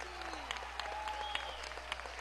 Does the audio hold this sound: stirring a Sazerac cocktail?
no